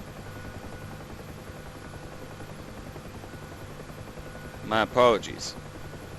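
UH-1 Huey helicopter in DCS World: a steady, moderate rotor and engine drone during takeoff, with someone speaking briefly near the end.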